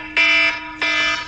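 An electronic alarm buzzes in two loud, steady bursts, each roughly a third of a second long with a short gap between, close by in a quiet indoor room with no voices.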